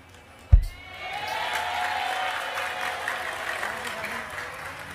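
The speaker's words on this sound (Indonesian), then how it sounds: "Tepuk tangan saya lagi." Audience applause at a talk, opening with a sharp thump and then swelling into steady, broad clapping from a large crowd that carries on evenly to the end.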